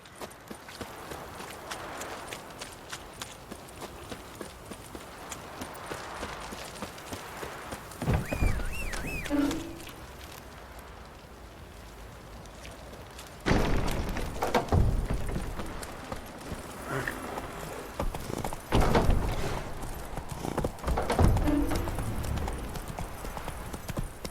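Horse hooves clip-clop steadily and fairly close in The Witcher 3: Wild Hunt, a continuous trotting rhythm over ambient game sound, with a few louder thumps and bursts along the way.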